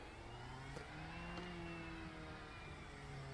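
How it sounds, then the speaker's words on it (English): Race car engine in the RENNSPORT racing game starting up and revving, a steady mid-pitched engine drone with rising and falling harmonics and two brief sharp bursts, loud and continuous with no talking. "Start the engine."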